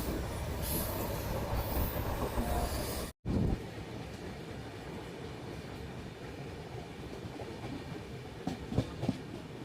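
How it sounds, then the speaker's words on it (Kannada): A passenger train rolling on rails toward Alnavar Junction, a continuous rumble of wheels with rhythmic clicking over the track joints and a brief break partway through. Sharper wheel noises come near the end, with no talking. "ನಮ್ಮ ಟ್ರೈನ್ ಈಗ ಆಳ್ನಾವರ ಜಂಕ್ಷನ್ಗೆ ಎಂಟ್ರಿ ಆಗ್ತಿದೆ"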